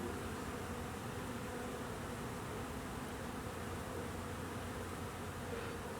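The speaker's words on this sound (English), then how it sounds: "Because there actually are bees." Honeybees hovering around the front of a hive entrance, a dense, continuous buzzing drone at moderate distance, steady and unbroken with no voices.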